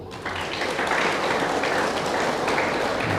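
Applause from a church gathering, a dense, even wash of many hands clapping that holds steady throughout, fairly loud with no clear voices.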